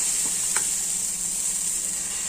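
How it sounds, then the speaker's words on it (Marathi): Dosa batter sizzles on a hot tawa with a steady, loud, even crackle. A couple of faint clinks sound near the start. "तवा गरम झालेला आहे. आपण डोसा बॅटर टाकूया."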